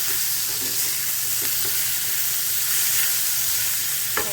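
Mustard seeds temper in hot oil in a cooking pot in a home kitchen. A steady, bright sizzle and hiss carries throughout, with faint pops and a sharper clack at the very end.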